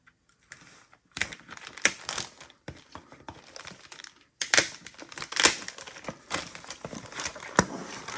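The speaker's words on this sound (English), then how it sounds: "let's see if we can get in the plastic bag here." Plastic bag wrapping around a Tesla CCS charging adaptor being pulled open, irregular crinkling and rustling bursts starting and stopping close by, quiet overall with no talking.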